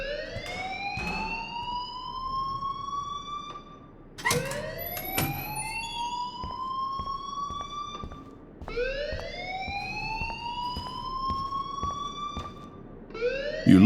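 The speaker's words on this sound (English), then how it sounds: "please turn off that alarm since that's your job" A video game alarm wails in three long rising siren sweeps, each starting abruptly and holding loud and steady before cutting off, with no talk over it.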